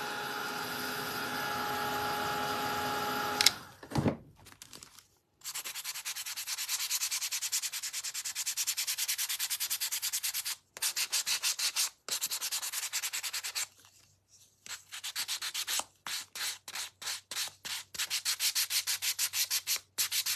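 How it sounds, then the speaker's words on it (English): Light hand sanding of a stamped surface, quick rhythmic rubbing strokes in bursts with short pauses, close and fairly quiet. "I'm going to give it a really light sanding just to really soften what I just stamped on."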